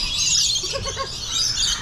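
A bird at Busch Gardens in Tampa gives a quick run of three or four short chirping calls, close and clear, over a steady hiss of outdoor background noise.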